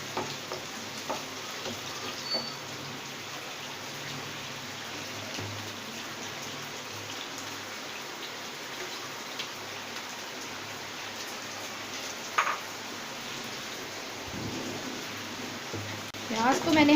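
Onions sautéing in oil in a hot vessel, cooked for a white mutton korma, give off a steady crackling sizzle that runs throughout with small pops, swelling louder near the end.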